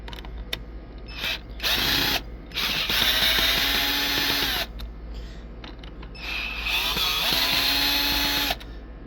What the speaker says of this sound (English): We gotta unscrew the screws and then change it out.